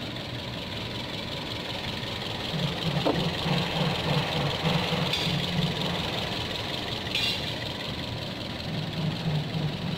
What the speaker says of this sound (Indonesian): ini kondisi mesinnya. Nah, ini mesinnya halus.